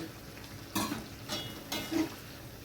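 Potato curry in a pan with water just added, stirred in a few distinct scraping strokes of a spoon against the pan over a quiet background of soft bubbling, with no voices.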